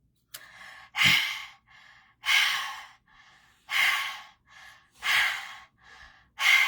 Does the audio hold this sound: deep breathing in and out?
yes